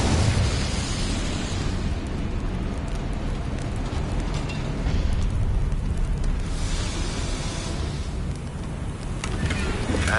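A fire spell is cast in Hogwarts Legacy, a loud, sustained roaring whoosh of magical flame that swells and rumbles for several seconds under dense game background sound.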